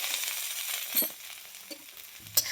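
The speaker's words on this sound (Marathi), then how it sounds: "तेल घालून भेंडी भाजून घ्यायची." Okra fries in a little oil in a pan over a full flame, a soft, steady sizzle with occasional clinks and scrapes from stirring.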